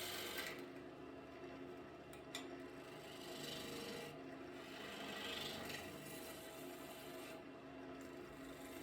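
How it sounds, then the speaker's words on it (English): A gouge makes push cuts shaping a maple bowl on a lathe, a continuous close rasping scrape over the motor's drone, with slight swells as the tool moves. "I'm just refining the shape here still. And I'm using a push cut"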